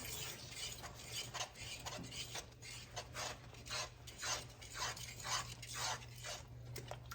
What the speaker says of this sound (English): All right, and then we're gonna mix this all around.